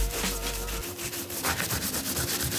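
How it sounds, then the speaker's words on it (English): A tattoo artist wipes the skin of a client's hand while tattooing a rose, giving a close, steady rubbing swish that lasts a few seconds over a constant machine hum. "I'm just going to give it a little bit of an extra wipe"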